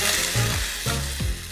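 Sweet and sour sauce sizzling loudly in a hot pan as a little water is added while cooking fried gourami, a steady close hiss with bursts of bubbling and stirring scrapes, no talking.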